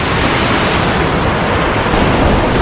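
Waterfall near Skjolden, Norway, a steady, loud broadband roar of falling water with some wind buffeting, continuous and close throughout with no voices.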